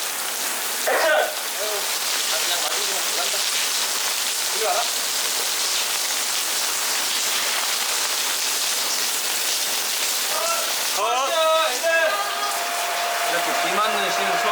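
Heavy rain pours steadily on an outdoor film set, a dense constant hiss of water hitting surfaces, with people talking faintly at moments beneath the downpour.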